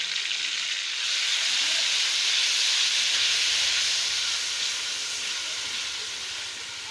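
Onion and green chili paste hits hot oil in a pan already holding fried garlic-ginger paste for potato curry, giving a loud, continuous hissing sizzle that swells after a second, holds steady, then eases slightly at the end.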